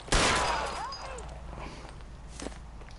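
A single gunshot cracks sharply at the start in the L.A. Noire video game, then rings off into a quieter background with scattered faint footsteps and movement.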